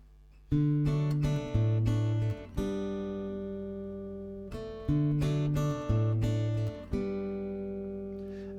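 Acoustic guitar strummed in a steady standard-tempo rhythm, sustained chords rising and falling in repeated phrases with an open G ringing through, played alone and close with no voices.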